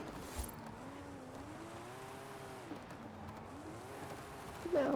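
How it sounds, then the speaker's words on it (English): An engine in Forza Horizon 5 holds a wavering, steady drone as a car drifts through a corner, the pitch rising and falling with the throttle, ending with a brief tire scrub. "Now we're kind of drifting this area."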